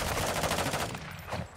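Rapid automatic gunfire in Call of Duty Modern Warfare II DMZ mode, a steady close burst of repeated shots for about a second, then quieter scattered noise and a final sharp report.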